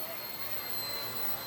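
A Blade 70S micro RC helicopter flies indoors, giving off a steady high-pitched electric whine and rotor hiss at a fairly close, even level throughout.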